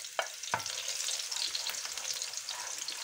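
Garlic sizzling in hot oil in a pan for a lentil dish from El Hierro in the Canary Islands, a steady bright hiss with a couple of sharp knocks of stirring near the start.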